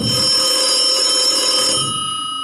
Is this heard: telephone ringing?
yes